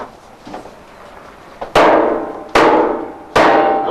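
A hammer knocks the bung out of a bourbon barrel at the Jim Beam distillery, with three loud, sharp, ringing blows evenly spaced after some lighter taps.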